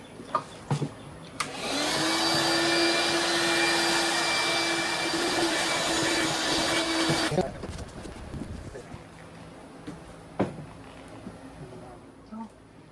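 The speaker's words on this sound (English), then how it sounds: "Vacuum cleaner." A vacuum cleaner whirs loudly for several seconds with a steady motor hum inside a camper van, then shuts off, leaving quiet room noise and a few soft knocks.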